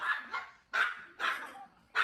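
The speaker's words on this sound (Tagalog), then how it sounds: "Ayun na ba yung aso?" A dog barks in four sharp bursts spaced by short pauses, fairly close and moderately loud, with no talking.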